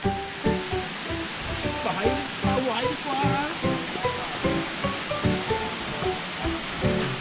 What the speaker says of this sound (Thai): ไปเราไปดูน้ำตกกันดีกว่า